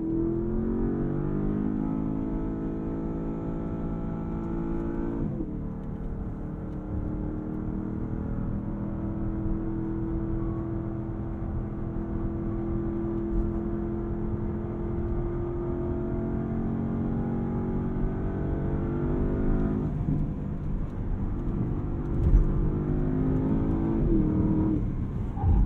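A Porsche Panamera GTS Sport Turismo accelerates hard through quick PDK paddle shifts, its engine note climbing steadily, then dropping sharply at each upshift, heard loud and close from inside the cabin.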